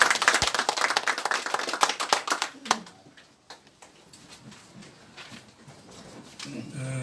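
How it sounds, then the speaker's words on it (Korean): A congregation applauds at a Korean church Easter union service: dense, bright clapping for about three seconds, then thinning to scattered claps and a quiet room. "우리 크게 박수 한번 쳐주시기"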